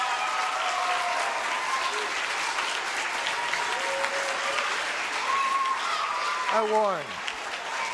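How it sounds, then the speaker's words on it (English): An audience at a school speech applauds steadily and loudly for several seconds while someone speaks briefly over the clapping near the end. "How about a nice round of applause"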